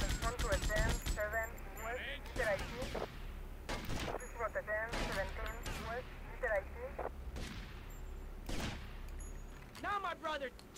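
Shotgun blasts in the video game GTA Vice City come as loud separate bangs spaced a second or two apart, with game character voices talking between the shots.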